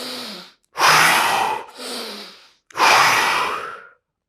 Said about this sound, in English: strong exhalation through the mouth, strong inhalation through the nose to prepare the lungs